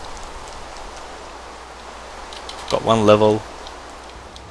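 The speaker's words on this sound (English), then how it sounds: "It's raining, it's night time," A steady, even hiss of night rain in Minecraft with the Better Than Wolves mod runs throughout, briefly overlaid by someone speaking a few words.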